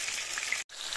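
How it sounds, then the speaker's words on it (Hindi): Chapli kebabs frying in a pan make a close, even crackle and sizzle that breaks off briefly once, then carries on, with no voices. "इसी तरह से अपने सारे कबाब फ्राई कर लेती हूँ"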